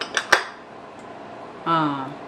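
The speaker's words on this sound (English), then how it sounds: "I'm just going to use a spoon for this" A spoon scoops vegan, gluten-free almond butter cookie dough sweetened with agave from a bowl, giving two sharp close clinks early on, then a brief tonal scraping drag near the end.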